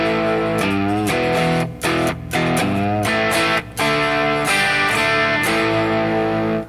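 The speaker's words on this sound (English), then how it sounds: "here's the sound of the amp without the overdrive engaged, with that 10K cathode resistor on B2A" Electric guitar through a Triwatt valve amplifier with its overdrive switched off and a 10K cathode resistor mod, played as loud, close chords and riffs with moderate crunch and brief pauses between phrases.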